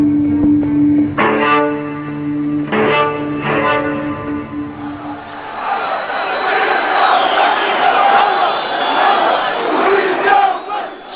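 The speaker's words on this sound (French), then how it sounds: "un bain de foule au milieu de ses partisans" Large crowd of Gaddafi's supporters in Libya cheering and shouting, a dense roar of massed voices that swells and holds, following a stretch of chanting and a public address.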